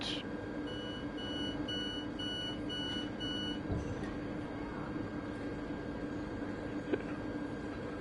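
Door-unlock beeps on a passenger train in Train Sim World 2, a string of short regular electronic tones over the first few seconds, set against a steady low rumble of the stopped train and faint background noise.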